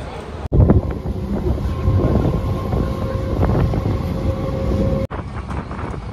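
Steady rumble and rattle of a moving train heard from inside a carriage, a continuous close drone with brief louder jolts near the start and end and faint voices in the background.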